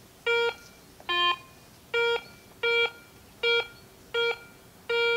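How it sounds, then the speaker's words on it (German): Swept over metal, a metal detector gives rapid repeated electronic beeps, seven short bright tones in a steady rhythm, the second slightly lower in pitch, close and clear with no voices. "Da hört man, dass der Ton anders klingt."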